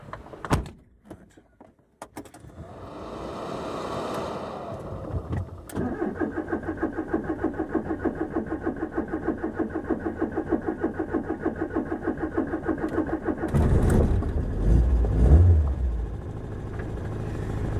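Alpine car that has been off the road for ten years: a few clicks and a door, a starter motor cranking, then the engine catches and settles into a steady, rhythmic idle close by, briefly revving near the end.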